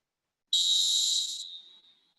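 A volleyball referee's whistle gives one sharp, shrill blast of about a second at a high school match, fading quickly afterward with no voices around.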